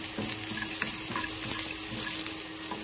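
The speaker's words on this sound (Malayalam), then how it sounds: "ചെറുള്ളി നമ്മളിടുകയാണ് ഒന്ന് വഴറ്റിയെടുക്കാനായിട്ട്" Shallots and cashews sautéing in a pan for Malabar thari kanji, making a continuous moderate sizzle with scattered light stirring taps and scrapes throughout.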